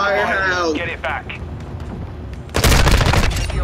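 Call of Duty: Modern Warfare 2 online match with a voice speaking at first, then a sudden, loud, dense burst of rapid gunfire over the final second.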